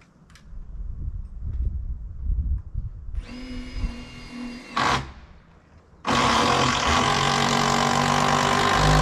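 A power tool drives a structural screw into wall framing, whining briefly, pausing, then running in a loud, steady sustained drone near by.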